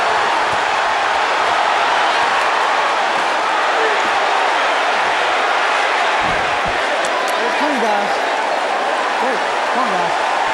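A large arena crowd roars continuously at the 2004 Mike Tyson versus Danny Williams heavyweight boxing bout, a loud wash of cheering with a commentator talking over it.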